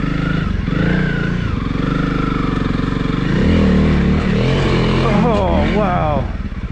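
Honda CRF300L motorcycle ridden enduro-style on loamy trail, engine droning steadily close by and rising as it revs and climbs, with an excited rider talking over it.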